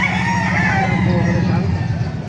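A rooster crows loud and close at a chicken market in Baliuag, Bulacan, one long drawn-out crow that fills the whole moment, with market noise in the background.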